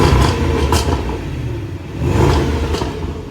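A 2016 Range Rover Sport SVR engine revs up twice in a row, the exhaust swelling loudly and then settling back, close by with no talking.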